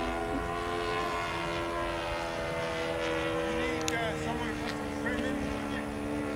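A Hangar 9 P-40 radio-controlled model airplane flies, its engine giving a continuous buzzing whine with shifting pitch that holds steady at moderate loudness throughout.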